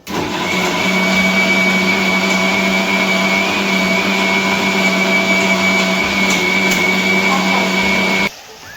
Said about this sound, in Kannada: ಇದನ್ನು ಮುಚ್ಚಿ ಗ್ರೈಂಡ್ ಮಾಡ್ಕೊಳ್ಳೋಣ. ಒಂದು 2 ರೌಂಡಷ್ಟು ಗ್ರೈಂಡ್ ಮಾಡಿಕೊಂಡ್ರೆ ಸಾಕು.